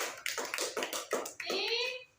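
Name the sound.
classroom clapping for group three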